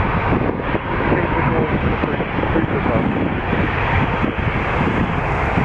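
Broadband roar of an Airbus A321-200 jet taking off from runway 23 at Toronto Pearson, loud and steady throughout, with wind buffeting the microphone.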